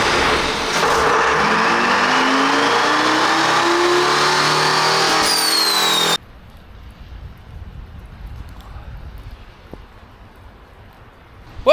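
A 212 cubic inch Detroit Diesel 453 two-stroke engine on a dyno roars loud and close for about six seconds, pitch sweeping as it revs under load. It then cuts off abruptly to a faint background hum, with a brief sharp noise at the very end.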